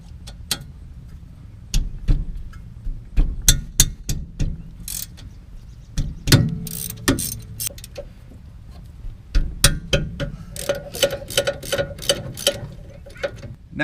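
A ratchet wrench and socket work on 15mm brake caliper bolts of a 2012 Land Rover LR2, giving close bursts of rapid clicking between metallic clunks.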